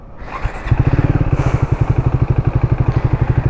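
A Triumph Speed 400 motorcycle engine cranks briefly, then catches and settles into a steady, loud, rapid thumping idle close by with no talk.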